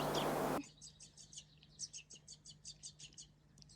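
Small birds chirp in a rapid, steady series of high tweets after a short burst of noise, with a low hum underneath; fairly faint and distant.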